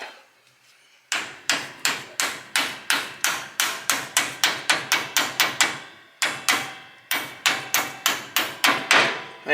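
Sharp metallic hammer blows knocking a kingpin bushing core out of the axle of a 1957 GMC truck, loud and close in rapid steady runs with a brief pause midway.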